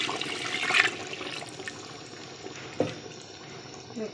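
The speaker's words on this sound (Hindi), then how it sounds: "चलिए इसमें पानी डाल दें।" Water poured from a glass into a pot of beef and potato curry, a brief splashing gush early on, then a quieter trickle and a small clink near the end, with no talk.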